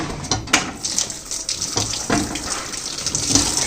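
Water from a tilted bucket splashes and pours in uneven gushes onto a hard surface for washing, close by and steady, with no talking.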